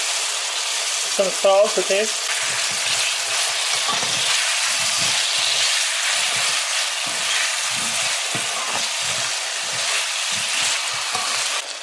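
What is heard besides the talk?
potatoes frying in a pan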